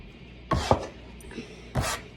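A bench scraper scrapes and gathers fresh pasta dough on a work surface in a few short, soft scuffs, close and quiet with gaps between strokes.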